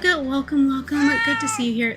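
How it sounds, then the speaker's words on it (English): A pet cat meows in short bursts beneath a person's friendly spoken greeting at close range indoors. "That's my cat, by the way. If you hear him talking"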